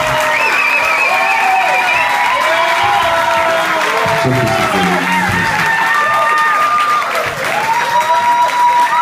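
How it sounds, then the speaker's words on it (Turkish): Concert audience at the BKM Mutfak stage applauding and cheering, a loud sustained mass of clapping with shouts and whistles rising through it and voices calling out from the crowd. "Yapmayın, çok alkışlayın."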